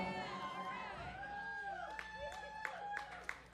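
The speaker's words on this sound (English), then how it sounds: "I don't know why you're cheering." Audience at an Elvis tribute show cheering and whooping in a lively burst, crowd noise swelling under and around a voice speaking over it.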